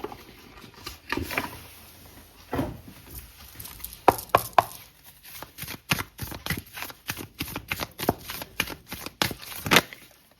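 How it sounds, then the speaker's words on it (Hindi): Osho Zen tarot cards being shuffled, a close run of crisp riffling and slapping bursts of card noise, irregular and fairly loud, with no voices. "ओशो जैन से लेते हैं कुछ कार्ड्स आपके लिए"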